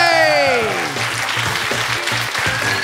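A television studio audience applauds at the end of a comedy game show, a continuous wash of clapping mixed with music and a sustained tone.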